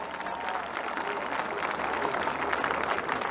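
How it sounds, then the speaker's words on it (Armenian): A political rally crowd applauds people from Gyumri, thick sustained clapping mixed with crowd noise, loud and even throughout the short stretch. "խնդրում եմ ծափարենք մի հատ գյումրեցիներին"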